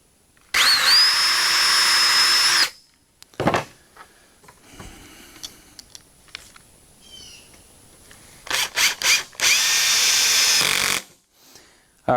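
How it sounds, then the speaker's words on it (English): A power drill pre-drills holes for heavy-duty garage shelves in two loud bursts of about two seconds each, a high whine with a strong bite into the material, separated by quieter handling and scraping. "I'm going to pre-drill this last one."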